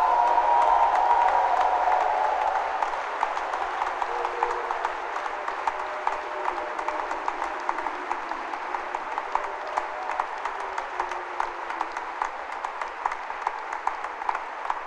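A church congregation applauds and acclaims during a worship service, with sustained, dense clapping loud at the start and then settling into a steady roar of many hands that carries on throughout.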